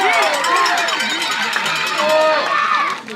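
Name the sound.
baseball crowd cheering after a home run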